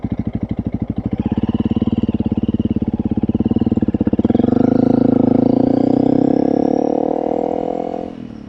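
A Honda CRF 300L motorcycle idles with a rapid, even thump, then revs up and pulls away. The loud, close engine roar rises in pitch before easing off as the bike rides away.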